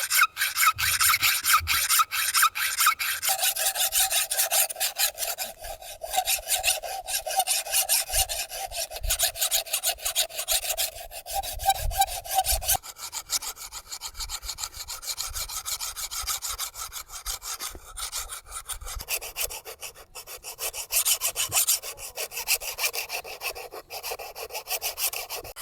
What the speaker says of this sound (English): The scale is what's skating under the file